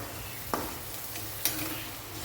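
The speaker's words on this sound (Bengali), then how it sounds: "খুব আস্তে আস্তে নাড়াতে হবে।" Fish curry being stirred slowly in a pan: two brief scraping strokes stand out over a quiet simmering hiss, close with no talk.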